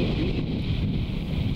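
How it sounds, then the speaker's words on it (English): Strong gale buffeting the microphone on a Cornish coastal golf course, a steady heavy roar of wind rumble with no speech, loud and continuous throughout. "well, that wind is kicking now"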